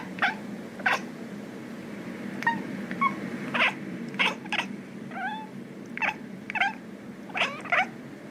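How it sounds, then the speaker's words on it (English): A cat chirping at birds gives short chattering chirps and trills in bursts, a steady purr-like rumble underneath, close and fairly clear with no talk. "Yeah, these the little chirps."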